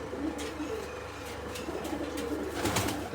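Soft pigeon coos repeat over a low, steady background hum, faint and close by.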